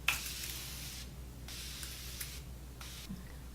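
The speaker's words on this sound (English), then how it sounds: "And I'm going to take my Morphe setting spray." Three soft, hissing mist bursts of Morphe setting spray are sprayed onto a face. Each puff lasts about a second, with short quiet gaps between them, all heard up close.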